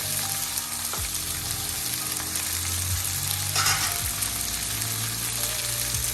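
Thinly sliced tomatoes, green chili and green peas fry in a pan with a steady, fairly loud sizzle, broken by occasional stirring scrapes and clinks of a utensil against the pan.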